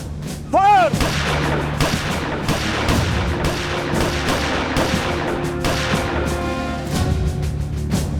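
Gunfire during a police firing drill in a TV crime drama, a rapid string of loud, close shots and booms over a continuous low rumble lasting several seconds.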